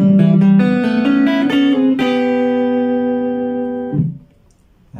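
A DIY kit electric guitar on its neck pickup plays a few quick plucked notes and then a sustained ringing chord that fades away, clean and close with no voices.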